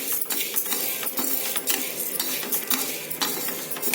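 Chana dal and urad dal frying in a little oil in a pan while a spoon stirs them, with quick scraping and clinking strokes over a soft steady sizzle, close up.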